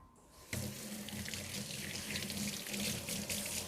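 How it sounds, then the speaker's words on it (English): A kitchen tap turns on and runs steadily for hand washing, a close, continuous splashing stream into the sink with no talk. "Gonna wash my hands real quick."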